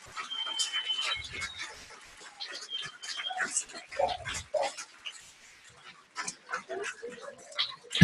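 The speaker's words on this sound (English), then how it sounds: "We got the dogs excited." Excited dogs at a ball give whimpers, yelps and short barks in irregular bursts, moderately close, with scattered voices and crowd noise around them.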